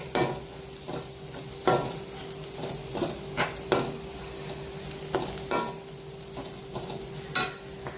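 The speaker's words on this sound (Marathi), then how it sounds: "आता घालूया संडे मसाला 2 चमचे. मसाला छान परतून घ्यायचा." Sunday masala sautés in a pan for egg bhurji: a soft continuous sizzle broken by a series of sharp, evenly spaced spatula scrapes and knocks against the pan, with a faint steady hum beneath.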